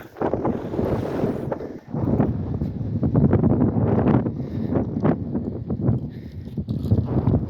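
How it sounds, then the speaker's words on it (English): Gusty wind buffeting the microphone on a country road in Berryville, Virginia, heavy rumbling bursts that rise and fall continuously with no speech. "Windy day"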